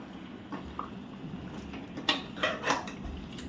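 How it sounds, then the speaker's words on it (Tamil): Ground spice paste of coriander, cumin, dried red chilli, shallots and tomato stirred into a pot of mutton curry, with scattered utensil scrapes and clinks against the pot, a few sharper knocks near the end, moderately close and alone. "சேர்த்துட்டு நல்லா கிண்டி விடுங்க நல்லா கிண்டி விட்டுக்கோங்க"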